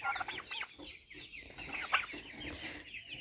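Several turkeys call out in loud, overlapping gobbles and clucks, a busy flock close by with no talking.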